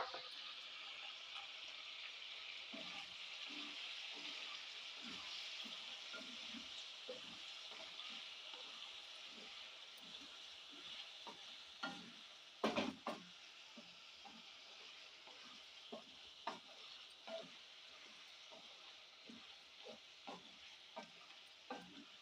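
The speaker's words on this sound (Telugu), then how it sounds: "ఇది ఒక రెండు నిమిషాలు పచ్చివాసన పోయే వరకు వేపుకుందామండి అల్లం వెల్లుల్లి పేస్ట్" Ginger garlic paste fries in a pan for a spicy chicken fry, giving a continuous soft sizzle with repeated scraping and stirring strokes and a brief louder clatter near the middle.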